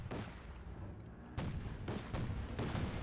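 An artillery ground-target barrage in the Company of Heroes 2 video game booms out as a run of heavy, rumbling blasts, several loud shell impacts landing one after another in a dense wall of sound.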